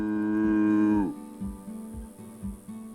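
A person's voice imitates a cow, giving one long, low moo that drops off at the end, followed by quiet background noise.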